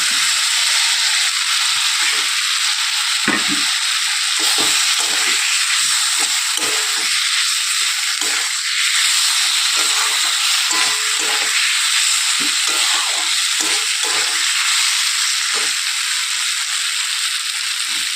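Fried ivy gourd tossed into a spiced masala that has released its oil gives a loud, continuous hiss and sizzle throughout, with faint clinks and stirring knocks underneath.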